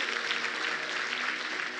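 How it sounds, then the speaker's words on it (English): Dense, even applause from a keynote audience, a steady wash of clapping with no gaps over a short stretch. "Round of applause."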